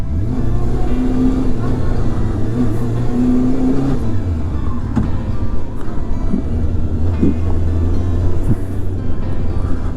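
A motorcycle engine drones steadily and rises in pitch as the rider picks up speed on a hilly road in Sasebo, Japan, with a continuous close, loud roar throughout.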